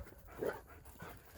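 A dog pants softly and lets out a brief whimper, close and faint, during an outdoor wood-chopping session.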